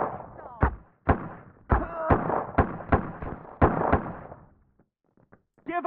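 Gunshots in Autobahn Police Simulator 3 during an off-road mission, with about eight sharp, loud reports fired at irregular intervals, followed by a short quiet stretch and a brief voice at the end.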